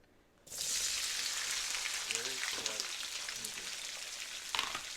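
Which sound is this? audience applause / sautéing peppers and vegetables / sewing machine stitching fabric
sautéing peppers and vegetables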